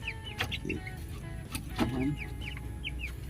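Chickens cluck softly on a Filipino farm beside a pig-fattening pen, with short clucks scattered over a steady background hum while someone speaks briefly.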